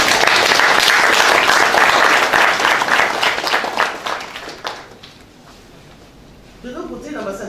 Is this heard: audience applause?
yes